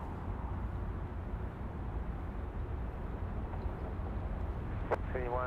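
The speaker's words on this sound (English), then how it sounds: "watch the instant replay here of our China Airlines coming into land here" China Airlines airliner coming in to land at Sydney Airport, a steady broad engine roar with rumble throughout, heard from outside at moderate distance, with a brief sharper noise near the end and no talk.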